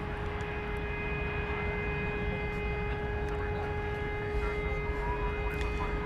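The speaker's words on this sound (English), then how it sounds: "an A300. Flight 755 going to Chicago Rockford International Aeroporto." An Airbus A300 airliner at Dallas Fort Worth airport drones with a steady jet roar and thin sustained whining tones, heard from a distance without talk.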